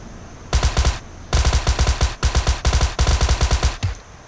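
Automatic gunfire in the mobile battle royale game PUBG Mobile, loud and close, fired in four rapid bursts of rattling shots separated by short pauses.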